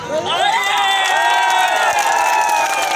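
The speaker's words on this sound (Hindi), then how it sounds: "अभी आप ताली बजा रहे हो, मगर मैं आपकी ताली और जोरों से बजवाना चाहता हूं।" Congress party rally crowd roaring with loud cheering and shouting, a dense wall of voices close and continuous without a break.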